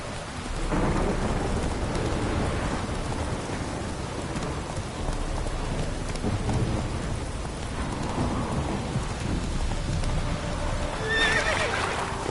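Horse neighing in the video game The Witcher 3: Wild Hunt, heard during a thunderstorm with steady rain, and a brief whinny rises near the end over the rain noise.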